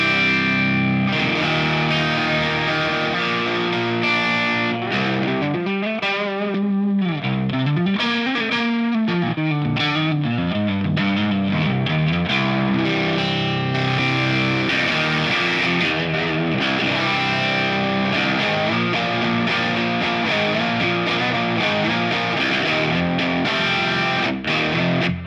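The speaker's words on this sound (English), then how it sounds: "So with that now, that turns the distortion on, that turns a boost on and off." Electric guitar played through a Line 6 POD Express with distortion and boost engaged, a loud, thick, sustained distorted tone ringing continuously with a short choppy passage in the middle, no talking.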